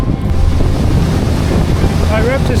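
A motorboat runs at speed against the tide, with a port engine that still shudders; a steady, loud engine and water rush comes through heavy wind buffeting on the microphone.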